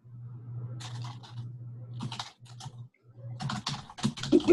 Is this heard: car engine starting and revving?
no